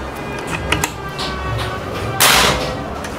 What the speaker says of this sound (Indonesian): Kita lanjut untuk tembakan terakhir ya.